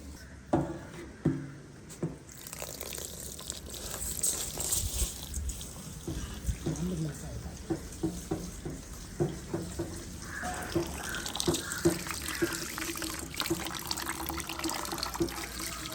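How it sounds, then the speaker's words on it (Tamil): Rice being washed by hand in a bowl, water swishing and trickling with splashy stirring and a running-tap hiss building toward the end, close by with no talk. "கழுவி தண்ணியை வடித்து விடுவோம்."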